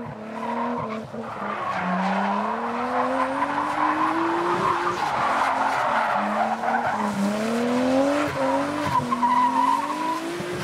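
Cars drifting through a street course in the racing video game Forza Horizon 5, with sustained tire squeal and rising engine whine sweeping up and down, loud and continuous throughout.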